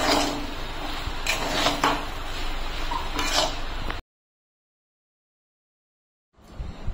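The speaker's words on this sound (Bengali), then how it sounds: "আমি এখন নাড়িয়ে চাড়িয়ে নামিয়ে নেব।" Semolina upma being stirred with a spatula in a pan, a busy run of scraping, tapping and clattering strokes for about four seconds, then silence before a brief faint scrape at the end.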